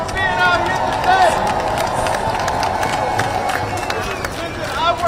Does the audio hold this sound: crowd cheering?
yes